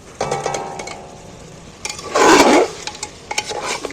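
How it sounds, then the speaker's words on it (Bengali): Fried potatoes being stirred into a mutton curry in a pot, with a few scraping spoon strokes and then one loud, close burst of sizzling as the mixture is turned, followed by quieter clinks. "এইবার আমি আলুগুলো তুলে দিয়ে আবার নেড়ে দিচ্ছি"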